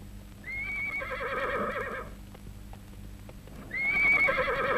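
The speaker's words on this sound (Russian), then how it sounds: "Без всадника конь мчит во вражеский стан." A riderless horse gallops toward an enemy camp in a 1971 Tajik film, giving two loud, shrill whinnies over steady, rapid hoofbeats.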